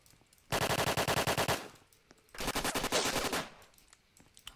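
PPSh submachine gun fired in the Apocalypse Rising video game: two sustained full-auto bursts, each around a second long, with rapid evenly spaced shots, loud and close with a short pause between bursts.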